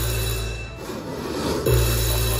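A slot machine's jackpot bell rings steadily and loudly on the Jewel of the Dragon game, a continuous electronic chime with no talk over it.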